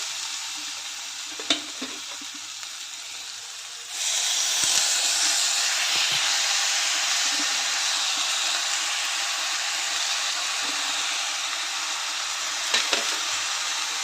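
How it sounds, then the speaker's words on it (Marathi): Washed chickpea leaves dropped into a hot pan and sautéed, a steady loud sizzle swelling suddenly as the greens go in, with occasional spoon clinks and stirring. "त्यानंतर आपण भाजी निवडून स्वच्छ धुवून ठेवलेली भाजी यामध्ये घालते."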